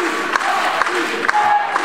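A wrestling crowd cheers and applauds at a live match, roused by wrestler Martin Guerrero, a dense roar of voices with sharp claps and shouts throughout.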